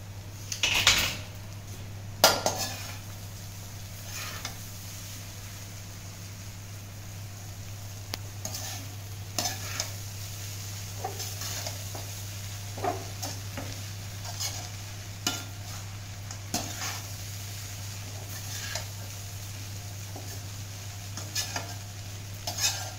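Beaten rice (chiura) stirred in a pan, with a spoon scraping and knocking against the metal in scattered strokes over a low steady hum and faint sizzle, nearby and with no talking.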